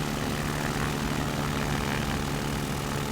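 A tail-dragger propeller plane's engine drones steadily and loudly in X-Plane 11, a constant unbroken hum with no talk over it.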